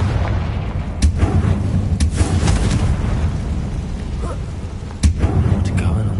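Confringo spell blasts in a video game, several sharp booming explosions with sudden onsets scattered across the clip over a rumbling game background.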